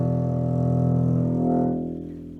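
A deep, sustained bowed note on a double bass's low string, rich and buzzy, swelling slightly then fading as the bow eases off.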